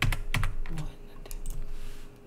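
Computer keyboard keys pressed in quick shortcut combinations while drawing an illustration, a few crisp clicks close by at the start and then lighter scattered taps, with no talking.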